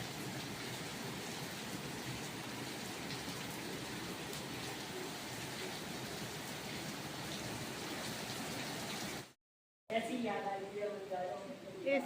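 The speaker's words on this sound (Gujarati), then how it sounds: "વરસાદ ચાલુ થઈ ગયો" Heavy rain falls in a constant, even hiss, then cuts out abruptly before a voice speaks over the continuing rain.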